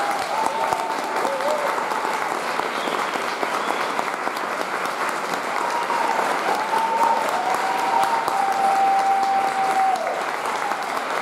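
An audience in Bologna gives a loud, sustained welcome applause for a guest speaker, a dense roar of many hands clapping with crowd murmur and a faint whistle-like tone drifting through.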